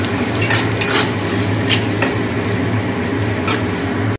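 Peanuts frying in oil in a home village kitchen while being stirred: a steady close sizzle with repeated scraping strokes of the spoon against the pan throughout, no talking.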